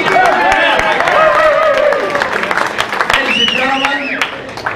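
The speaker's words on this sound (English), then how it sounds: "thanks for that rousing round of applause" Audience at a radio station reunion awards event applauds and cheers while someone talks loudly over the noise, the clapping a busy wash under his voice that thins out toward the end.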